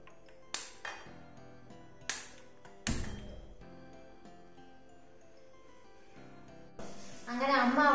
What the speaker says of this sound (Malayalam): ചേമ്പ് ചിരണ്ടി കഴിഞ്ഞ് കഴുകി കുക്കറിനകത്തേക്ക് ഇട്ടുകൊണ്ടിരിക്കുകയാണ്.